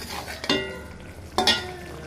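Spices being stirred and fried with beef brain in a pan: two clear scraping strokes of a spoon against the pan over a low, steady sizzle, close and moderately loud, with no voices.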